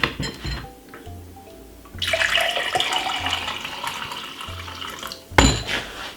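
Lukewarm water is poured steadily from a tap for a few seconds, making a loud, close splashing rush that ends abruptly, with faint clinks of dishes before and after.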